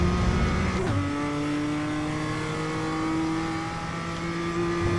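A BMW M2 race car engine roars steadily through a lap of Okayama circuit in iRacing, its loud sustained tone shifting pitch with one sharp gear change early on, with no talking.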